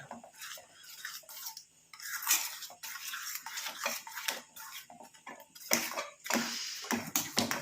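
A spoon scrapes and clinks around a pot of mixture on a switched-off stove, with irregular close scraping strokes and soft taps, fairly quiet and without talk.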